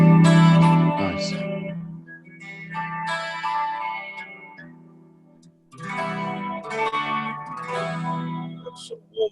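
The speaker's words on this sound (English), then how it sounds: "I've got another clean patch which has got a bit more chorus on and reverb on, so it's a wetter patch" An electric guitar plays through a clean patch with chorus and reverb, strummed chords ringing out in shimmering, wet swells that pause briefly before another phrase, loud and close.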